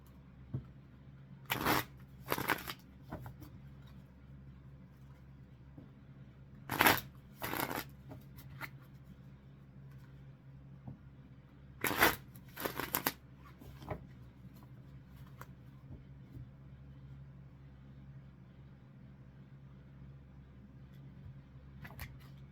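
Tarot cards shuffled by hand in three separate quick riffling bursts spaced about five seconds apart, fairly close, over a low steady room hum with no talking.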